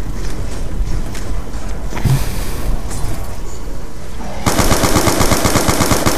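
Gunfire in the Call of Duty zombies mode Origins: rapid, loud automatic bursts that grow denser and more sustained toward the end, heard up close and alone with no voices.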